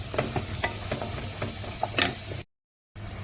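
Chicken cubes frying in a pan with spices, a steady close sizzle with small crackles and scraping stirs, briefly cut to silence before resuming.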